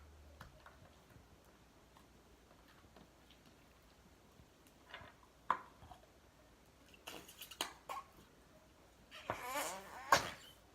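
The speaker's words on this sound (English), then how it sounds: "5 minutes of fart noises with slime" Wet squelching fart noises from slime being squeezed and pushed, coming as scattered short bursts that grow denser and louder toward the end, close up and with no talk.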